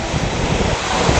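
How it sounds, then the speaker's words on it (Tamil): Gale-force wind with a hailstorm lashing Periyapalayam in Tiruvallur district, Tamil Nadu: a steady, loud broadband roar of wind and pounding rain and hail with no let-up and no voices. "திருவள்ளூர் மாவட்டம் பெரியபாளையத்தில் சூறைக்காற்றுடன் ஆலங்கட்டி மழை கொட்டி தீர்த்தது."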